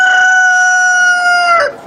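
A rooster crows in a farmyard chicken area, one long, loud, close call with a steady tone that holds for nearly two seconds before breaking off at the end.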